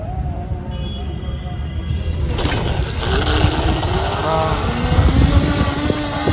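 A high-speed RC boat with a 1700 cc engine roars steadily at full throttle, a loud, continuous motor drone that builds in intensity partway through, with splashing and wind noise around it.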